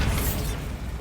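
Bombarda spell explosion in the video game Hogwarts Legacy, a brief loud, low, rumbling burst that thins into a short decaying roar.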